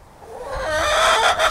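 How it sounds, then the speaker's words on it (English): Backyard chickens in their run and coop give a rising, drawn-out clucking call that swells louder and holds, with no talk over it. "Now I'm sure you guys have been hearing these chickens in the background."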